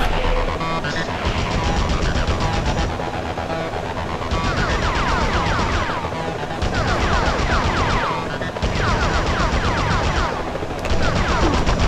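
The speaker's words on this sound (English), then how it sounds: "Enough with the shooting." Police in the Spider-Man video game open fire in rapid machine-gun bursts, loud and chaotic. The volleys come in repeated waves over a continuous din of game action.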